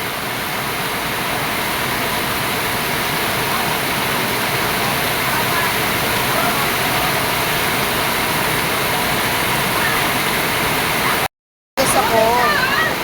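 Heavy rain pours down over floodwater in a constant, loud broadband rush of water, with a brief cut near the end, and a voice talks over the downpour.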